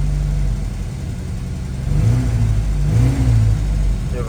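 Volga GAZelle 402 engine running just after starting, a steady low idle rumble that rises into a couple of brief revs toward the end.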